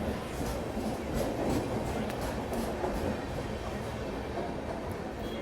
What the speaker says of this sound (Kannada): ಇನ್ನೂ ಪ್ಲಾಟ್ಫಾರ್ಮ್ ಒಳಗೆ ಐತೆ ನೋಡ್ರಿ ಟ್ರೈನ್